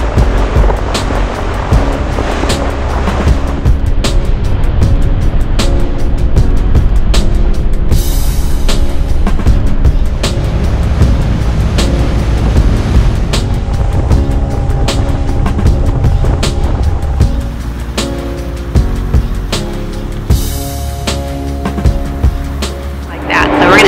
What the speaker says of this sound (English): So we are hopping the boat, heading back.